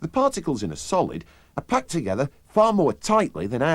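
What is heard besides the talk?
No everyday noise stands out behind the speech.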